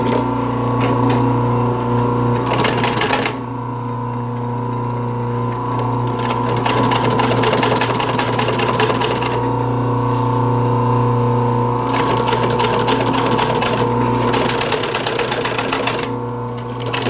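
A sewing machine stitches a motorcycle seat cover in steady, loud runs, pausing briefly between bursts of stitching, with a constant motor hum underneath throughout.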